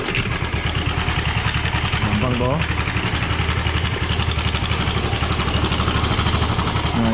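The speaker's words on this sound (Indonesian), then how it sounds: "ini mesin saya agak ngelitik" A Honda Kharisma 125 carburetor fitted to an old Honda Vario scooter idles steadily up close with a faint ticking knock in its rhythm, while someone talks briefly over it.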